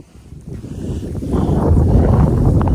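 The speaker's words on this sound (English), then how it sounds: "it's a good wind gust" A strong wind gust buffets the microphone outdoors during the 2023 flood, building from a low rumble into a loud, steady roar that holds to the end.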